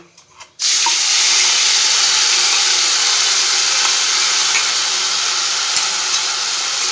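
Ground spice paste hits hot oil after a faint quiet moment, bursting into a loud, steady, close hiss of sizzling that holds without letup, with no talking.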